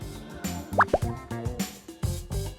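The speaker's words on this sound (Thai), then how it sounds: "เราก็จะผสมน้ำมันค่ะ" Oil is poured into rested batter for Thai fried oysters, giving a few distinct wet plops and drips close by, some spaced apart and some in quick pairs, over a quiet kitchen background.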